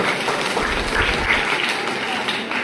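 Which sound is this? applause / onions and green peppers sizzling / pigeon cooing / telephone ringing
applause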